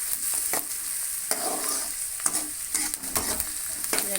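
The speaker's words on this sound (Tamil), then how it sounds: "இதை நல்லா கிளறிட்டு" Pumpkin masala fry with onion stirred in a hot pan, a continuous bright sizzle under irregular scraping strokes of the spoon, close and fairly loud.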